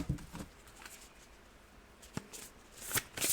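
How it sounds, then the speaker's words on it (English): Quiet tarot card shuffling: a few soft riffles and brisk flutters of cards, with short papery bursts scattered across the clip and a louder flurry near the end. "Alright, last shuffle."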